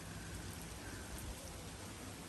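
Rain falls outdoors over a yard during mulching work, a steady, even hiss of drops that stays at one level throughout with no breaks.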